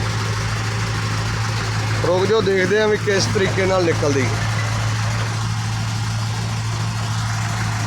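A tractor engine drones low and steady while pulling a heavily loaded, stuck truck outdoors. Someone talks briefly over the constant hum midway through.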